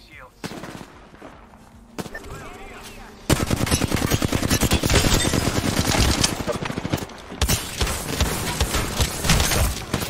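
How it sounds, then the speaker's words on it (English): Mozambique shotgun firing in the shooter game Apex Legends: a rapid, dense string of loud blasts with a few scattered earlier shots, mixed with other gunfire and under a player's voice. "How am I missing so many shots with the Mozambique?"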